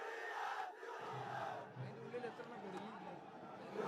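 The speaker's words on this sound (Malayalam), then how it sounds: "വലിയ ജനക്കൂട്ടം, പറഞ്ഞറിയിക്കാൻ കഴിയാത്ത വിധത്തിലുള്ള വലിയ ജനക്കൂട്ടമാണ് വടകരയുടെ മണ്ണിലേക്ക് എത്തിയിരിക്കുന്നത്" A large political rally crowd in Vadakara roars and chants at a steady level, a dense mass of voices filling the space without a break.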